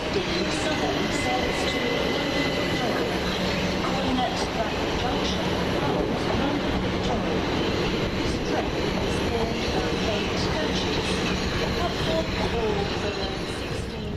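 A train runs through East Croydon station without stopping, a steady loud rumble and rail roar filling the whole stretch, with station noise and faint voices underneath.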